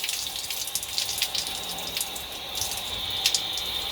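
Water runs steadily from a gas-heated outdoor shower being turned up, a constant faint hiss and splash with small spatters and no voices.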